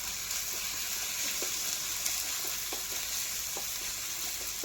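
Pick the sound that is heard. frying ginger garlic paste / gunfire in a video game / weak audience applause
frying ginger garlic paste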